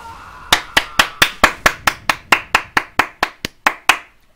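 About fifteen sharp, evenly spaced claps ring out in a steady rhythm, loud and close, with no voices.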